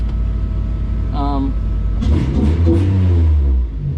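Toyota Celica engine revs up in a garage, a short rising roar with low rumble following a brief tonal whine, then settling back; a voice overlaps the tail.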